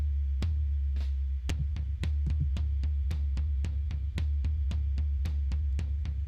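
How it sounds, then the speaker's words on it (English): A deep floor tom struck repeatedly at a steady pace, each hit booming low with a short decay, with a few quicker hits early on. "This is the tom sound."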